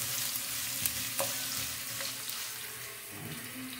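Ginger frying in a pan makes a soft, steady sizzle with a few light clicks of utensils, quiet and close, with no talking.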